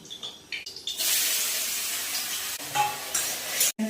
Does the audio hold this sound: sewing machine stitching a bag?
no